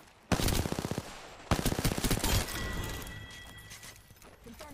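Video game gunfire in a squad battle royale match: two loud, rapid automatic bursts crackle up close, followed by a fading rattle and some faint ringing tones.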